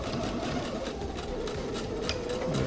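Sewing machine running a short back stitch on a snap infinity scarf, a steady close mechanical whir with a fine rapid rhythm, no voices.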